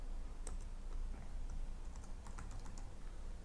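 Keys tapped on a computer keyboard while text is entered into a desktop application during UiPath automation setup, producing quiet, irregular clicks that pick up pace after the opening second, alone over a low background hiss.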